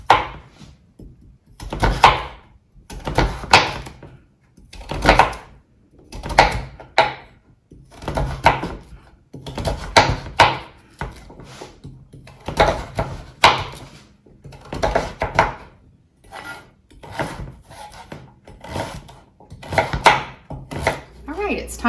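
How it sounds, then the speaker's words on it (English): A knife chops a peeled sweet potato into small pieces on a cutting board, with steady, close, distinct thunks repeating roughly every second and alone throughout. "Peel it, and then I'll cut it up into small pieces."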